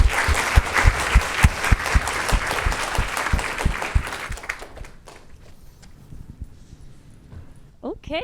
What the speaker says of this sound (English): Let's give Mehrtash one more round of applause.